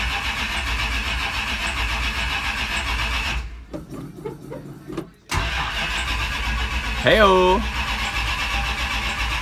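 A Plymouth Roadrunner left sitting for months, with a carburetor, idles with a low rumble, drops to near silence, then cranks and fires back to a running idle; a voice calls out near the end.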